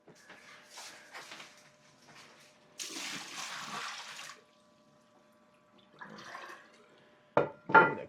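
Running water splashes in short bursts as a pet's water dish is rinsed under a tap, with a louder stretch of flow in the middle and a couple of sharp splashes near the end, no talking.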